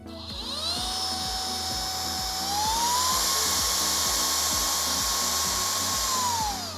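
A loud, steady high-pitched whine of an electric blower vacuum running continuously, rising in pitch partway through and holding strong with a rough motor drone underneath.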